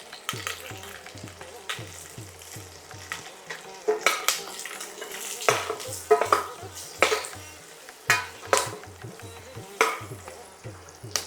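Asafoetida dropped into hot oil for lemon rice, a steady sizzle broken by repeated scraping and clinking of a spoon stirring against the metal pan, with sharper clatters spaced irregularly throughout.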